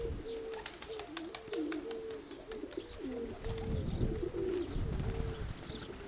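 Pigeons coo repeatedly in rolling, rhythmic phrases against a busy outdoor background, mixed with high, thin calls of swifts and the soft flutter of birds flying close around.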